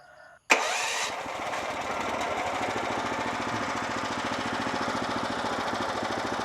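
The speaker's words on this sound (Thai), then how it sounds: "ถ้าเราสตาร์ทเครื่องตอนเช้านะครับ ปิดโชค แล้วก็สตาร์ทสตาร์ทติดเปิดโชค" A Hyper-X Pro 2025 brush cutter engine fires up with a sharp start, then settles into a steady, buzzing idle close at hand.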